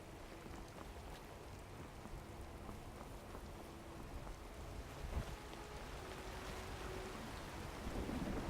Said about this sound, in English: God, I love the sound of the rain.